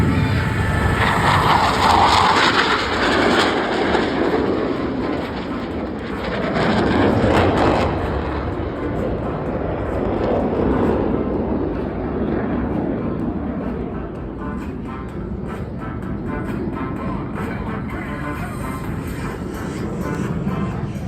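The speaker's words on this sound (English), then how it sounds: "they will roll their aircraft to 90 degrees angled bank and push forward on the stick as they perform the opposing knife edge pass" Blue Angels jets roar through an opposing knife-edge pass at an air show, a loud sustained jet-engine rush that swells and fades as the aircraft pass, with no talk over it.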